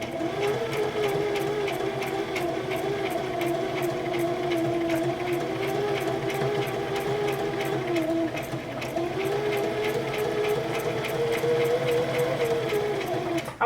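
Sewing machine stitching fabric for an owl stuffy, a steady fast mechanical whir with rapid needle ticks running continuously at close range, briefly slowing mid-way as the fabric is turned.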